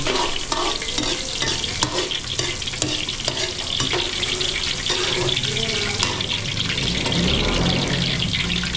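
Garlic and onion sauté in a busy restaurant kitchen pan, a continuous loud sizzle with frequent stirring scrapes and clatter, plus running-water and kitchen bustle in the background.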